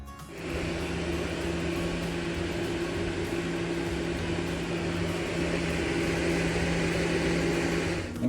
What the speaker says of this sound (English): we've also installed a 50-watt flex with an 8-inch fan from iSolar Solutions into this garage vent